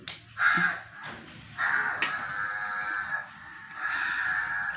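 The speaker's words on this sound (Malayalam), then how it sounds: "കാക്ക നിലവിളിക്കുന്നു" A crow caws repeatedly, several loud, harsh calls close by with short pauses between them.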